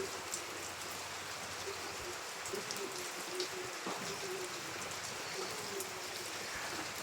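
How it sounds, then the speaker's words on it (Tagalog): Steady typhoon rain patters and hisses throughout in Camarines Sur, Philippines, with occasional drips and faint birds cooing in the background. "Ayaw na yung ulan matapos."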